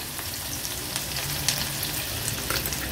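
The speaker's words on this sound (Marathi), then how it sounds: "या आता आपण फोडणीला घालूया" Crushed garlic and three finely chopped green chillies frying in hot oil for a tempering, a loud, steady crackling sizzle with faint stirring and no talking.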